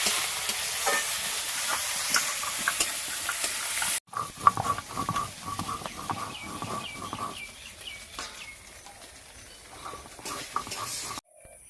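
Ginger garlic paste frying in oil while being stirred, with a crackling sizzle first, then scraping stirring strokes over a patchier sizzle after a short break.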